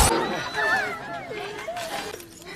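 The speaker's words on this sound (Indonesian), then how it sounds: "Dan tiba-tiba Ross terjatuh ke atas meja kaca." Glass from a glass table shatters in a short, sharp crash as a person falls onto it, followed at once by a voice talking over the fading debris.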